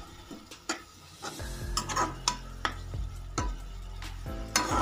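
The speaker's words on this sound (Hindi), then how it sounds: "हमने प्याज को डाल लिया है आप इसे गोल्डन फ्राई होने तक फ्राई कर लीजिएगा" Onions frying in a pan for an egg masala gravy, with a steady low sizzle under repeated sharp scrapes and clinks of a spoon stirring against the pan, close and moderately loud, no talking.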